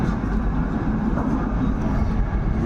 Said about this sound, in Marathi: आता 5 मिनिटाचा हॉल्ट घेतल्यानंतर आपली गाडी नाशिकवरनं पुन्हा निघालेली आहे